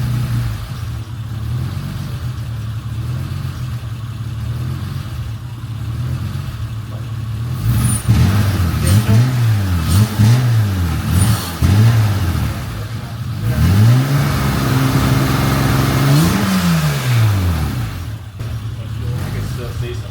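Honda NSX with a J-swap engine idles through a newly installed exhaust, then revs up and down repeatedly in several sharp, close, loud bursts before settling back to idle.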